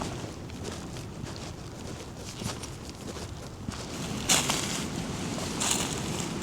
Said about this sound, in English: This wind is ridiculous.